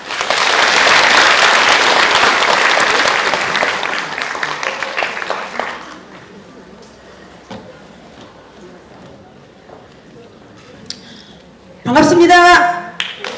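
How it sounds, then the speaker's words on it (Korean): Loud, dense applause from a seminar audience at a national long-term care association event in the National Assembly, sustained for several seconds before thinning out into quiet room noise, with a brief voice and burst of sound at the end. "큰 박수로 맞이하겠습니다."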